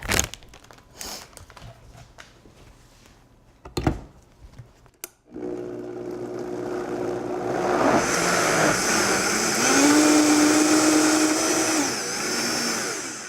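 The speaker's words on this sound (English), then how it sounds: "Now, put the lid on it and blend it." A countertop blender with its lid on whirs up loudly and steadily while blending an egg-based casserole mixture, coming in after some light handling clatter and holding a strong motor drone for about eight seconds.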